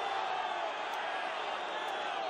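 A home football crowd at a Segunda División match in Valladolid jeers a departing player, a continuous distant roar of whistles and voices filling the stadium.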